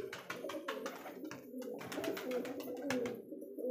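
Pigeons coo and murmur softly at close range inside a nest box where a pigeon chick sits, the calls coming in short overlapping bursts.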